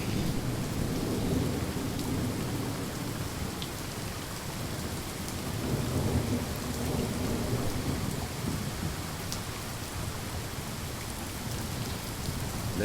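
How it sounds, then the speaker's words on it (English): Steady rain falls with rolling thunder in a storm, a continuous dense hiss with low rumbles swelling around the middle, heard alone with no voices. "Let the rain play out"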